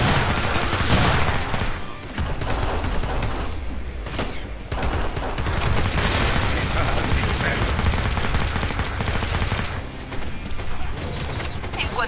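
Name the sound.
gunfire in the video game Killing Floor 2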